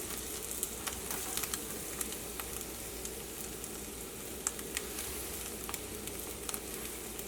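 A chapati egg paratha roll sizzles hot in a pan, a steady dense crackling hiss with small sharp pops scattered through it, close and constant with no voices.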